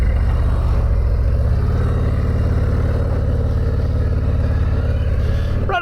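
A 2024 Harley-Davidson Street Glide motorcycle rumbles steadily while riding, its engine drone loud and continuous with slight shifts in pitch and a brief rise near the end.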